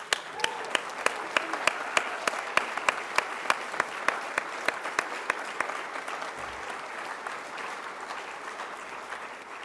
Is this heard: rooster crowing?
no